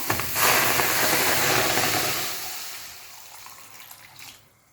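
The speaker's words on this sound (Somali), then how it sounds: "waxaan kaloo ku soo darsanaynaa biyo" Water pours steadily into a cooking pot for chicken and vegetable soup, a loud splashing stream that fades and thins toward the end, with no talk over it.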